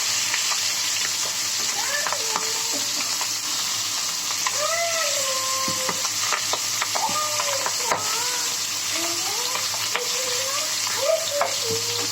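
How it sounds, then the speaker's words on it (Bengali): Fish pieces fry in a pan with a steady, bright sizzle that keeps going throughout. Clinks of utensils and stirring sounds break in now and then, and a voice talks faintly underneath. "এখন মাছগুলো ভালো করে ভেজে নেব"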